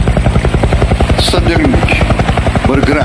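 A helicopter over a disaster area in Indonesia makes a loud, rapid rhythmic rotor thump that runs steadily throughout, with a voice speaking over it.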